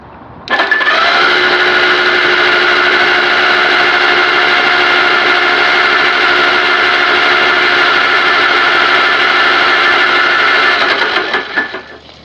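A toasted forklift engine cranking over without plugs, a loud continuous whirring drone that starts sharply and runs evenly for about eleven seconds before winding down, heard alone.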